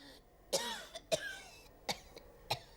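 A person at a mock doctor's examination coughs several times in short, sharp bursts, close and clear, with brief gaps between them and no talk.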